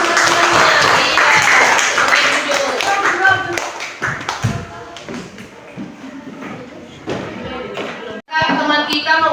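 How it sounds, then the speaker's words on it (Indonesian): Primary school classmates in a grade 3 or grade 5 classroom clap for a pupil in a brief burst of taps and claps, with voices and shuffling around it and a short gap before more noise resumes. "Sudah selesai, tepuk tangan teman-temannya"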